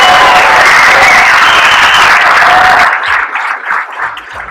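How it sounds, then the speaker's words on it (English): An audience at a 30th-anniversary event for the film Blood In Blood Out applauds loudly for actor Danny Trejo; the dense, close clapping holds steady and then thins into scattered claps near the end. "I want you to give him a round of applause"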